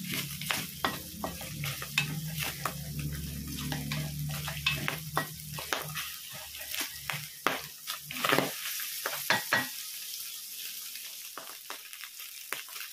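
Ground pork and plenty of garlic frying in its own fat for spaghetti sauce, a steady close sizzle broken by repeated scraping stirs of a spatula, easing off toward the end.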